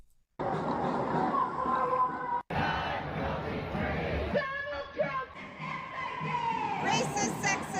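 A large crowd shouts and cheers in a loud, continuous roar with rising yells, briefly cutting out before the din resumes, with no clear speech over it.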